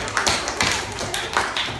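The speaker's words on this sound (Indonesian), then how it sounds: "Ayo tepuk tangan lagi." Classroom applause from students after group readings, a dense patter of claps in short bursts that rise and fade over a couple of seconds.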